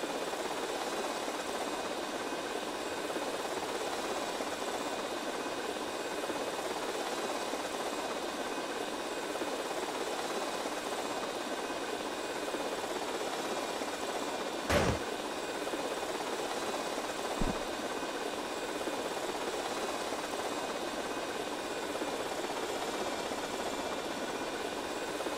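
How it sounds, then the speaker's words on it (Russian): A continuous whirring rotor and engine drone of an RC helicopter in GTA Vice City holds steady throughout, with a couple of brief clicks partway through and no voices. "Направить вертолет RC на бомбу, чтобы ее взять."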